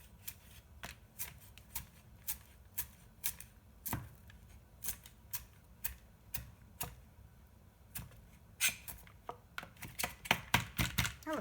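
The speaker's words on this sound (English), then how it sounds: "So I'm just gonna roughly chop" A knife roughly chops leafy salad greens with their stems on a board, sounding as crisp, sharp taps in an uneven rhythm that speed up into a rapid, louder flurry toward the end.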